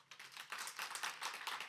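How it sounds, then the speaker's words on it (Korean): Applause from an audience at a Korean church service, a dense patter of many hands clapping that runs steadily through the whole moment at a moderate level, with no voices over it. "박수 한번 쳐주세요"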